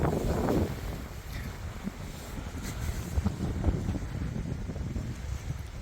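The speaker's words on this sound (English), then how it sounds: "Downwind sailing" A sailboat running downwind off southern Guadeloupe under a double-reefed main and full jib, with steady wind buffeting the microphone and water rushing past the hull as a continuous, moderately loud wash.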